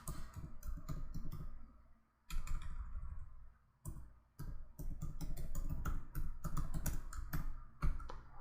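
Rapid bursts of typing on a computer keyboard as a MongoDB command is entered, steady clicky keystrokes with two brief pauses, close and fairly loud with no talking.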